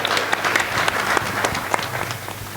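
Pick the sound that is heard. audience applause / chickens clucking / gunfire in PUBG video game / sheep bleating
audience applause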